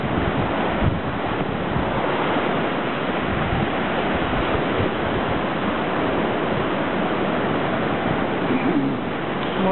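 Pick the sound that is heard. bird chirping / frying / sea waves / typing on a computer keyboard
sea waves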